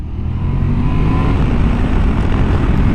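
A Yamaha Tenere 700 motorcycle engine drones loud and steady while riding, a close, continuous low rumble with wind noise and no voices.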